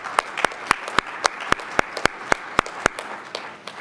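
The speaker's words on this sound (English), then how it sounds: "Give yourselves a round of applause for that work." Luncheon audience at a winter meeting applauding, with a steady stream of distinct sharp claps over a soft wash of clapping, lasting the full few seconds at moderate volume.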